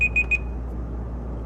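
A timer alarm beeps three times in quick succession, sharp and high-pitched, then falls silent over a low steady hum.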